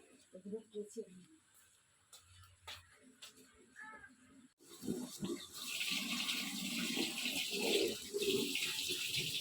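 Water runs steadily from a tap in the second half, a broad hiss and splash following soft clatter and a voice speaking at a distance.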